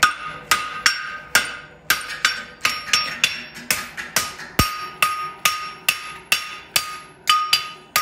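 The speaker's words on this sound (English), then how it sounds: "We're not squashing it against the anvil, we're hitting where the air is there." A hammer strikes a horseshoe on an anvil while a stock concave hind shoe is shaped, ringing out in a steady rhythm of about two ringing, metallic blows per second, loud and close.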